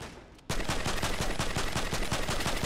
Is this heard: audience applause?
no